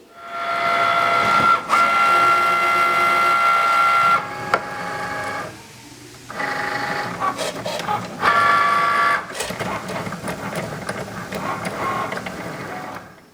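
Cricut machine cutting glitter iron-on material, with loud whirring motor runs and high tonal whines in bursts, briefly pausing midway before resuming.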